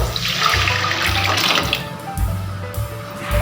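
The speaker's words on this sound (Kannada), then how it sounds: "ಇವಾಗ ಬೇಳೆ ಕಟ್ ನೀರನ್ನ ಹಾಕೊಂಡ್ರೆ ಸಾಕು" Cooked toor dal water being poured into a pot of sambar, a steady close splashing and gushing of liquid that runs on throughout with small surges.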